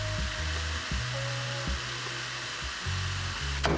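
Ground meat fries in a pot for a Levantine peas and carrots stew, a steady moderate sizzle under a low humming background, with a sharp scrape near the end.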